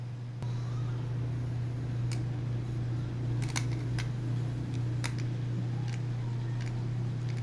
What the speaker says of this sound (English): you guys heard that pop back into the canister, and then you could hear the loose end now flapping around inside the canister